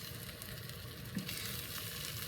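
Breakfast burrito filling, still wet, sizzles steadily in a hot pan as it is stirred, a soft continuous crackle with faint scraping and no talking.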